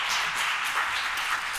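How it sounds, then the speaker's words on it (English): Brief applause for panelists at a business conference, a steady wash of many hands clapping, moderately loud and even throughout the short moment, with no talking over it. "let's give our panelists a round of applause"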